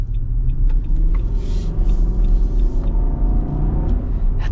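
A 2024 Nissan Armada SUV with a V8 engine accelerates, producing a loud, deep, continuous rumble of engine and road noise from inside the cabin with no talking.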